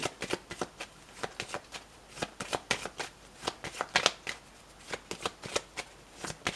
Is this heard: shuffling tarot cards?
yes